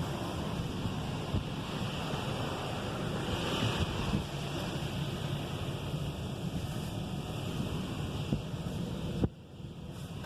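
Steady high-pressure rinse spray hissing and drumming on a car inside a Washworld Razor automatic car wash, loud and continuous, cutting off sharply near the end.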